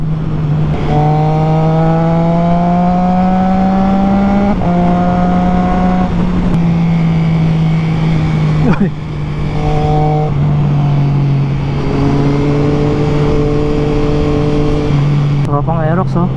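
A Triumph Trident 660 motorcycle with a Zard full-system exhaust, ridden on Michelin Road 5 tires, drones loudly and steadily, its engine pitch rising and falling through gear changes during a close-up riding run.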